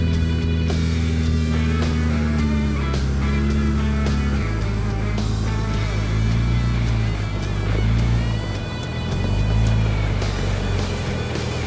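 An off-road vehicle in two-wheel drive grinds up a hard rocky obstacle at high altitude, its engine droning steadily and loudly, the pitch dropping and then rising as it labors and revs.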